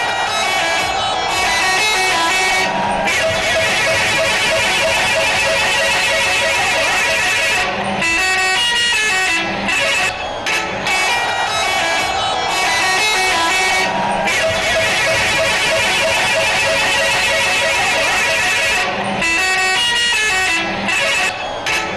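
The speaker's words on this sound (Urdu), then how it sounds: "ٹرک کے ہارن سے ڈرنے کی ویڈیو شیئر" A truck horn honks loudly and repeatedly, its blasts layered over dense, continuous traffic-like noise with voices mixed in.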